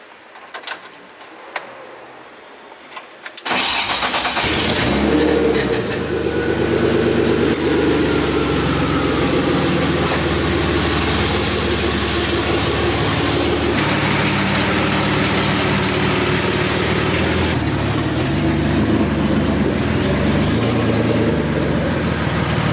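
A BMW E36 with a freshly fitted body kit and vented hood cranks over after a few seconds of quiet clicks, then settles into a loud, steady idle that rumbles on close by with no talk.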